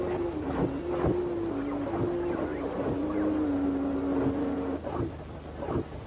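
A swarm of robot dogs on the move gives off a wavering mechanical whir, broken by repeated sharp clicks and thuds of movement at an uneven rhythm, with no talk.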